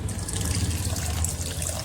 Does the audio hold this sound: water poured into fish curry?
yes